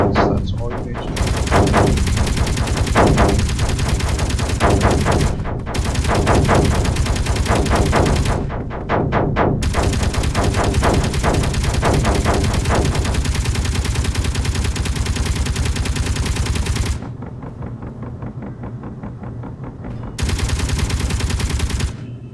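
Turrets in the Space Engineers game firing in long, loud, continuous bursts of rapid automatic gunfire, broken by short pauses, with a quieter stretch near the end before another burst.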